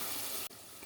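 Two cups of hot water poured into a pot of duck meat curry, a brief close hissing, rushing splash that cuts off abruptly partway through.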